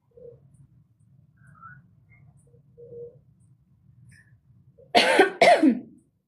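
Two sharp, loud coughs close together near the end, after a stretch of near silence with faint low background murmur.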